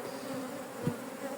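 Honeybees buzzing around an open hive in an apiary, a soft, continuous droning hum close by, with one brief louder thump partway through and no talk.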